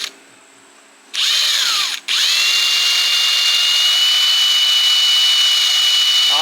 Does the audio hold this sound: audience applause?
no